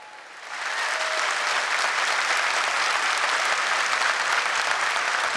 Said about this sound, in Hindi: एक बार हमारी स्पेस एजेंसी अंतरिक्ष की इसरो के लिए जोरदार तालियां बजाइए।